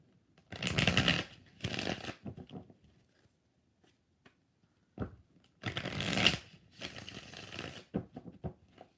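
Tarot cards are shuffled in four brisk riffling bursts, arriving as two pairs separated by a quiet pause, close up and fairly crisp.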